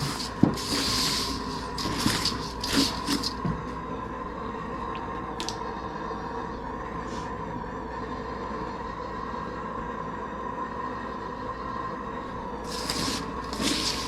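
Dirt being stirred by hand in a heated pot while making wax dirt, with gritty rubbing and scraping bursts near the start and end around a steady low hum of the heat source.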